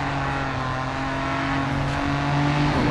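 Racing car engine in the GRID 2 video game, droning steadily with a rising rev toward the end, loud and continuous with broadband road and wind noise underneath.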